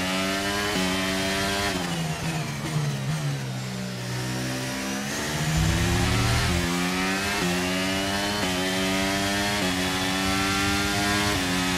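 Formula 1 car engine from the F1 2023 video game revving hard through repeated gear changes, pitch climbing and dropping in steady waves, loud and continuous with no talk over it.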